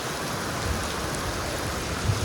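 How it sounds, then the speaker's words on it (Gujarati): Steady rain pours down near a petrol pump in Bhesan, Gujarat, a dense, even hiss that fills the short moment with no voices over it. "હવે આપણે બેસી ગયા છીએ અને વરસાદ જોઈ શકો છો."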